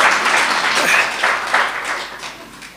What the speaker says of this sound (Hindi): भाई लोग ताली बजा दो माताओं के लिए